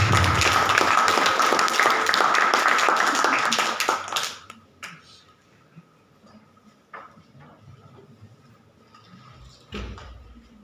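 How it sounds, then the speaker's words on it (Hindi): Loud, dense applause from a theatre audience welcoming a stage performance runs for about four seconds, then drops off abruptly to a few scattered claps and quiet room sound. "जोरदार तालियों से स्वागत कीजिए आज की इस प्रस्तुति"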